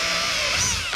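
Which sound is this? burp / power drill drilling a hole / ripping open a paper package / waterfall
power drill drilling a hole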